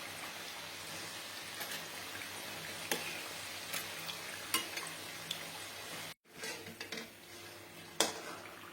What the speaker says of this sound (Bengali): পিঠাগুলো আমি গোল্ডেন ব্রাউন করে ভেজে নিচ্ছি